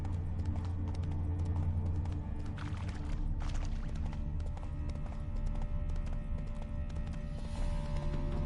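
A horse in the video game The Witcher trots with a steady clip-clop of hooves over a dense, continuous game ambience, with no talk.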